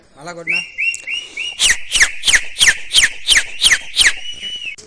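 A person whistles loudly up close: a few sustained tones, then a quick run of about eight sharp, rhythmic pulsed blasts.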